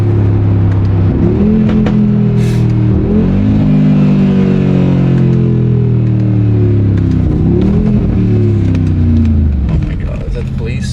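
A sports car revved hard in Dubai: the engine climbs repeatedly in rising sweeps, drops back between pulls, and shifts up, loud and close throughout, with people talking over it.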